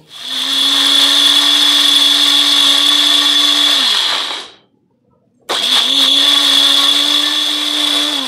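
A blender grinds mustard and poppy seeds with a little water into a thick paste, a loud steady whirring motor that runs, winds down to a brief stop, then starts again at full speed.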